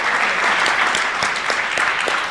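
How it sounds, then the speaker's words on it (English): Applause from the audience at a WSPU general assembly, a steady dense clapping filling the hall throughout, close and loud with no talk over it. "Please give her a round of applause"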